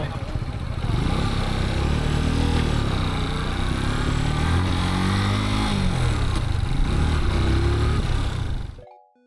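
A Cyclone Mini Panda 150 mini bike engine revs and pulls continuously, its buzzy mid-pitched note rising and falling as it accelerates, close and loud until it cuts off at the end.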